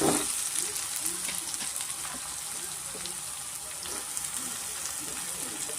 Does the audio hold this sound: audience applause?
no